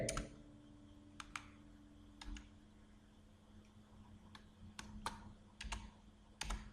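Typing on a computer keyboard while entering an Excel formula: sparse, quiet key clicks in short bursts and single taps over a faint background hum.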